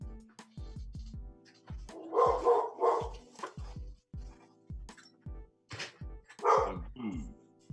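Several dogs bark in short, sharp bursts and yips, fairly close and loud, with scattered quieter barks in between and no talk over them.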